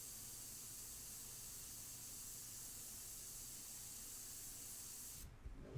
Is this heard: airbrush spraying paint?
yes